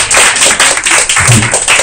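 A small event audience claps loudly and briskly in thanks to store manager Fujisawa. The dense close applause is continuous, with a faint murmur partway through.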